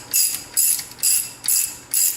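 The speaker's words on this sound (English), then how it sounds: "we'll go ahead and tighten these down just with a socket to start" Socket ratchet tightening brake caliper bolts on a 2008 Chevy 2500 during a front brake job: five quick, close bursts of sharp metallic clicking in an even rhythm, with no talking.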